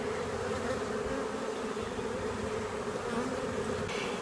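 Honey bees in a nucleus colony hive giving off a steady, dense buzz that stays constant and close throughout, with no voices.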